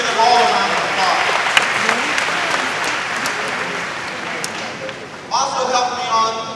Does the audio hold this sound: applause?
yes